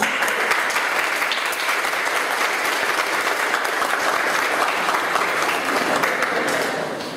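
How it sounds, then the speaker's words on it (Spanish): Loud, sustained applause from a sizable crowd at a university panel discussion, steady throughout and tapering off slightly at the very end. "Manuel Gardner, a quien pido un fuerte aplauso."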